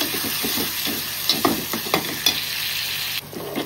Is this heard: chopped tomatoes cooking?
yes